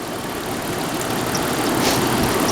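A Honda Civic with a replacement engine idles steadily nearby, a constant low rumble with no changes in pitch or revving.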